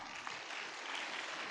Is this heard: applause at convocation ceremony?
yes